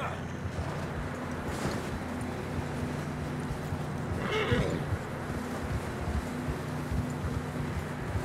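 Horses in the video game Red Dead Redemption 2, a clear whinny near the start and another louder neigh around the middle, over a steady bed of outdoor wind and game ambience.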